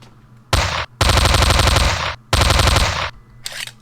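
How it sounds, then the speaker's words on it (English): Uzi submachine gun firing in an FPS Creator game, loud rapid automatic bursts in three long strings separated by short pauses, then a fainter trailing burst. "I got myself another Uzi"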